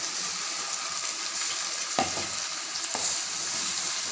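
Coriander paste sizzles steadily in hot oil for a green pulao, a dense continuous frying hiss with two sharp spoon-scrape clicks partway through, close and fairly loud, no voices.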